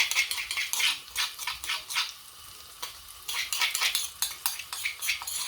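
Garlic and chili stir-fried over low heat in a pan, a quick repeating scrape and clatter of a spatula against metal with a soft sizzle beneath, close and steady.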